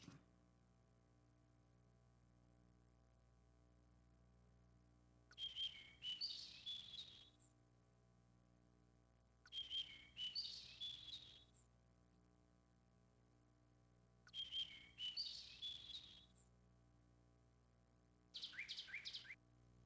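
Bird chirps in the World Cup Golf: Professional Edition Sega Saturn game come in four evenly spaced bursts of quick, high tweets over a quiet background hum.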